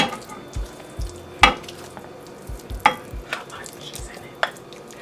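Yams with cinnamon and brown sugar in butter in a pan, a soft sizzle under scattered stirring knocks and scrapes of a utensil against the pan, close by, with no talk.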